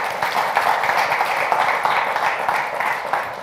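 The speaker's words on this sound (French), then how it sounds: "Afousatou, applaudissements." Audience applause at a live café-style show, a steady wash of many hands clapping at even loudness throughout, with no voices over it.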